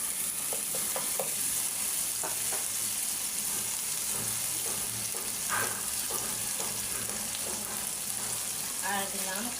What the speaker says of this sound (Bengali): একটু নরম হলে আমি আদা রসুন কাঁচামরিচ দিব